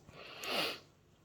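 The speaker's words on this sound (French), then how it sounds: "Excusez-moi si je renifle un petit peu." A single close, breathy sniff through the nose, brief and soft, with no talking.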